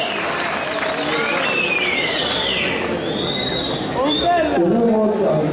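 Crowd applause and clapping at a village festival calenda in Tlahuitoltepec, a steady wash of many hands throughout with a voice and chatter over it and brief whistle-like tones.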